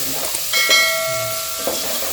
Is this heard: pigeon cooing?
no